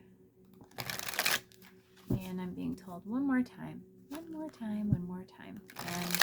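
Tarot cards are shuffled in quick riffling bursts at the start and end, crisp and close, while someone talks in between.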